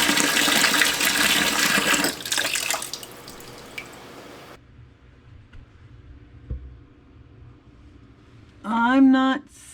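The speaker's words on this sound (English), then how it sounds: "put some water in, and see if we leak." Water rushes into a newly fixed bathroom sink with its drain stopper in, loud at first and then fading to soft trickles and drips, before a voice speaks briefly near the end.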